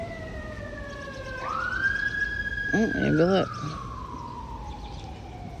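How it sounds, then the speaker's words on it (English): A wailing emergency siren passes outside, its rising and falling tone swelling louder midway and then fading, with a person talking faintly over it. "So it's always gotta be sirens, right?"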